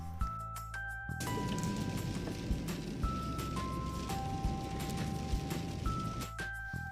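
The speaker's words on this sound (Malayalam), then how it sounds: "ഇപ്പോഴാണ് ഇങ്ങനെ മഴ പെയ്ത് വെള്ളം കയറുന്നത്" Heavy rain falling in the UAE, a steady dense patter and wash of rain on surfaces that runs continuously and fairly close after a brief quieter opening, with a faint tone held in the background.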